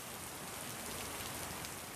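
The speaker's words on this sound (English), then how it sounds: "Heavy rain and winds have pummeled this rural town in the eastern county of Hualien." Heavy rain driven by wind from Typhoon Podul in rural Hualien County, Taiwan, pours down as a dense, steady hiss of drops on surfaces, continuous and enveloping with no voices.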